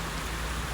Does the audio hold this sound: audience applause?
no